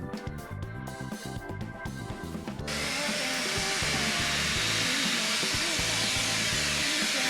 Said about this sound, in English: I'm gonna vacuum it.